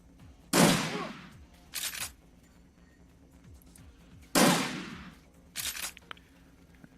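Full-auto gunfire in the video game Shadowrun Returns, two loud rattling bursts each followed by a shorter echoing burst, with no voices.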